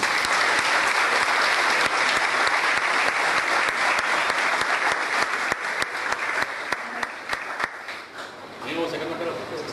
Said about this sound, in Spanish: Un muy fuerte aplauso